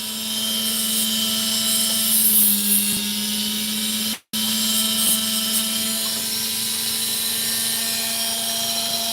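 A steady, loud motorized whine drones continuously as an opal stone is shaped against a large cutting blade, with a brief cut-out midway before the hum resumes.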